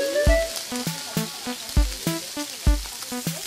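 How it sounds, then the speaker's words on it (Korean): Kimchi pancake frying in oil in a pan, with repeated sharp pops and crackles coming at an irregular rhythm, loud and close, while a steady sizzle carries on underneath. "이 김치전 튀기는 맛이지 뭐."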